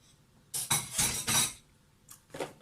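Dishes and cutlery clink and clatter in a small student kitchen as they are gathered up to be washed, a few close, sharp rattling bursts followed by quieter single clinks, with no talking.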